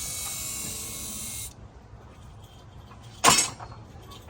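Power tool whirring on 10 mm coil pack bolts of a 2015 Toyota Prius in a driveway, a steady buzzing run that cuts off, then a short sharp burst of tool noise.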